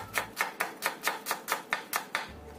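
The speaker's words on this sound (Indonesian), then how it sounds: "Kemudian kita chop-chop kayak setengah dicincang juga kayak gini" A knife chops halved shallots on a board for a snack recipe: about nine crisp, evenly spaced strikes, close and clear, with no talking.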